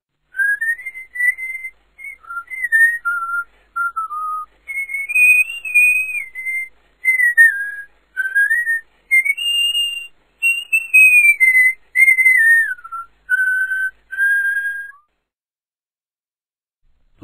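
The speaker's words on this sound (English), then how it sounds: "Cowboy Jake was very happy and whistled as he took the cattle home." Whistling in the Tweenies interactive story game, a clear melodic whistled tune of short phrases rising and falling, loud and alone for about fifteen seconds before stopping.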